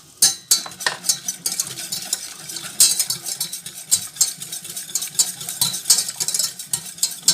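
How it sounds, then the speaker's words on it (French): A whisk stirs sauce aurore in a pan with quick, rhythmic metallic scraping and tapping strokes, close and steady throughout. "Ensuite, je passe au fouet."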